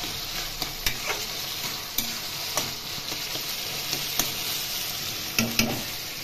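Taro leaves (kochu shak) with turmeric being stirred in an oiled frying pan, a steady sizzle broken by regular scraping clicks of the spoon against the pan, no voices.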